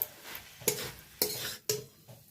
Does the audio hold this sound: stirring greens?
yes